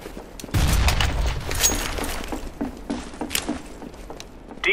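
A grenade goes off in Counter-Strike, a thick low boom at about half a second that rolls into a busy wash of gunfire and scattered footsteps, loud and close with no talk over it.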